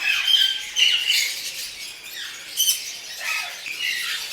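An exhibition budgerigar breeder male squawks and chirps in repeated shrill bursts, with a steady chatter of other budgies and lovebirds behind it. The calls are fairly close and carry on through the whole stretch.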